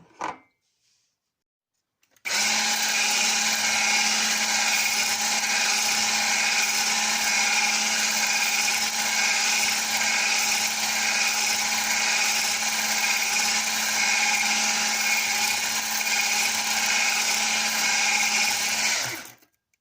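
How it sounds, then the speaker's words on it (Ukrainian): An electric mixer beating sugar into batter whirs steadily and loudly for a long stretch after a brief knock, a constant buzzing motor hum with no talking. "додаю цукор і продовжую збивати."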